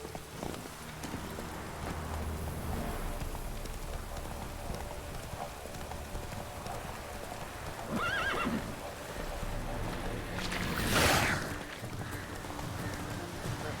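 The horse Roach in The Witcher 3 trots along with a steady, faint clip-clop of hooves beneath ambient game sound, capped by a loud whinny near the end; a voice speaks during the clip.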